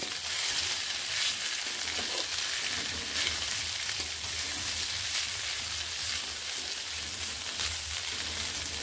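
Mixed vegetables with potato fry steadily in a pan as they are stirred, a dense, even sizzle with soft scraping, close and continuous throughout.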